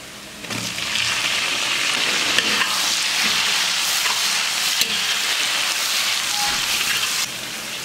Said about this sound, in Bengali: টমেটো কুচি দিচ্ছি।